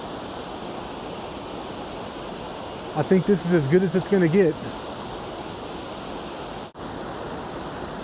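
Lost Falls, a waterfall in Rocky Mountain National Park, gives a constant hissing roar of falling water; someone speaks briefly over it partway through, and the rush carries on unchanged.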